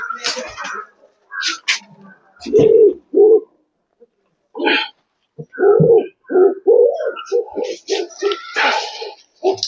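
A pair of Punjabi breed pigeons, a male and a female, coo in short, close bursts separated by pauses, with someone speaking between and over the calls.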